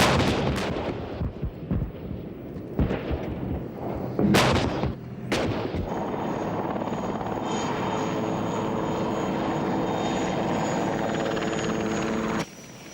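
Battlefield din with artillery blasts and American combat helicopters supporting Saudi armor against Iraqi positions, heavy booms early over a steady, loud rotor-and-engine drone that continues throughout.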